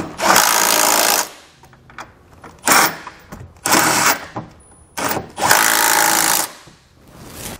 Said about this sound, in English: Tighten down all of our hardware using a 17mm socket.